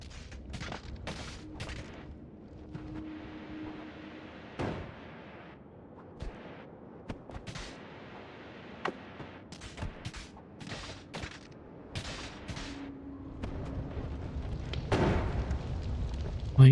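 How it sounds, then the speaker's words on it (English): Blasts in the game Noita go off in an irregular string of sharp cracks and booms, some close and loud, others smaller, with rumbling debris between and a heavier burst near the end. "Why is everything exploding?"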